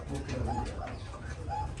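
A pair of blue king pigeons sitting on eggs coo softly in low, throaty repeated notes, faint and close.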